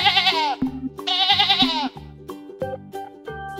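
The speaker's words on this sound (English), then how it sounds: "Sheep." A sheep bleats twice in quick, wavering cries over a bouncy background music track with simple repeating notes.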